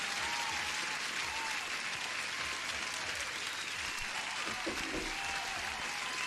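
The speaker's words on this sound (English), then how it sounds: "Huge applause, new subscriber." An applause sound effect played during a live futures trading stream to mark a new subscriber, a dense, continuous crowd clapping that fills the whole stretch at an even, moderate level.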